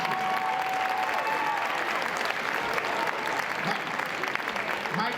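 A crowd at a political event gives a sustained burst of loud, dense applause with cheering, steady for several seconds.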